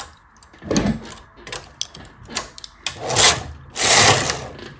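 A domestic knitting machine carriage is pushed across rows while knitting travelling cables, producing repeated rasping, whooshing sweeps with mechanical clicks, close and fairly loud.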